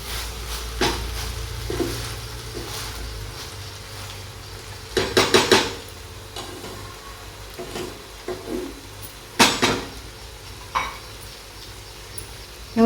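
Metal clatter of a lid set onto a pot of Maharashtrian coconut rice (narali bhat) left to steam, several sharp clanks and scrapes standing out over a quiet kitchen hum, with occasional softer knocks.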